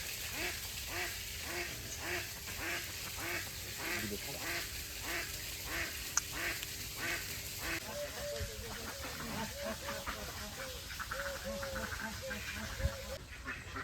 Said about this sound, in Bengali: দেশি হাঁস যাকে বলে লোকাল সব এই পুকুরে চরে এই পুকুরেই খাওয়া দাওয়া করে